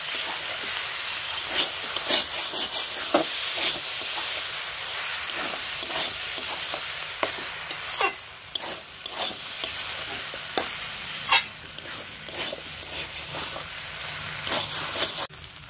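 Chopped banana flower mixed with rice flour and ginger is stirred in a pan for a homemade mochar polao, giving a steady scraping sizzle with repeated sharp spatula strokes and no voices.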